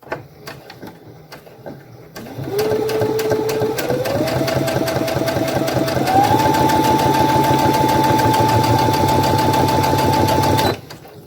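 A Brother Innov-is F420 sewing machine starts up and runs steadily, its rapid needle whir climbing in pitch in two steps as the speed rises, then cuts off abruptly; close and clear, with no talk.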